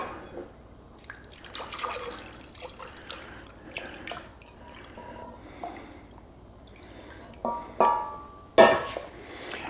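Orange gelatin shot base, a Cuba Libre mix that has started to thicken, is poured into cups in quiet, irregular liquid trickles and drips, with a few louder splashes near the end.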